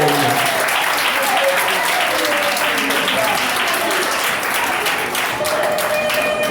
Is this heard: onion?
no